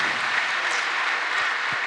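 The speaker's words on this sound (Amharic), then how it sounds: "አጨብጭቡ ለጌታ ክብር" A church congregation at a gospel service applauds, a dense, steady wash of many hands clapping close and loud, cutting off abruptly at the end.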